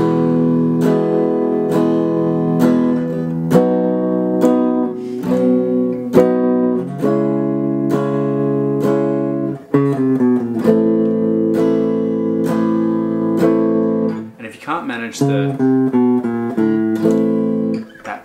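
A guitar strums a slow chord progression from a song, each chord ringing out before changing, played alone with no voices.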